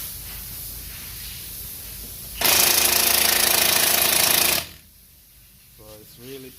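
Power tool loosening a 21 millimeter brake bolt on a Chevy Impala, a loud two-second burst of rattling impact hammering that cuts off sharply, with quiet garage sound and a brief voice on either side.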